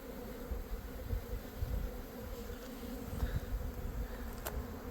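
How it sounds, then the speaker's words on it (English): Honey bees from weathered, rotting hive boxes in a California almond orchard drone in a steady, busy hum, a dense swarm-like buzz that holds even throughout with no voices. "I will say these hives are a lot more active than the second guy's bees."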